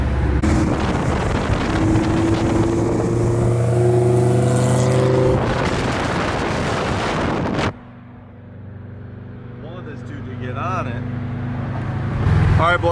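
A Mitsubishi Evo 4 RS driving through New York City with its brakes failing, engine drone rising in pitch through the gears, then dropping to a lower idle-like hum with wind buffeting the microphone.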